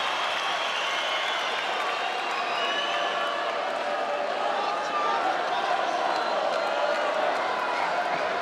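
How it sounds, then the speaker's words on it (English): A boxing arena crowd roars steadily during the Carl Frampton vs Horacio Garcia bout, a dense, sustained wash of cheering and shouting that swells slightly toward the end. "The crowd trying to make their effect."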